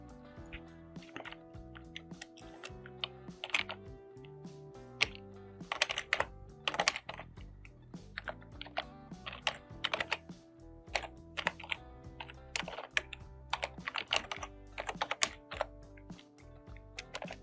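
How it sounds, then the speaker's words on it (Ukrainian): Rapid, uneven clicking of computer keys as an email address is typed, bursts of close, crisp keystrokes spread across the whole stretch with short pauses between groups. "введіть електронну пошту ще одного однокласника"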